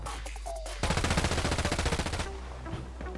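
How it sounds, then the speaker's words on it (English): Rapid, evenly spaced gunfire from a pistol fight in a multiplayer video game, loud and continuous for about a second and a half before dropping back to quieter game ambience. "they're fighting with pistols"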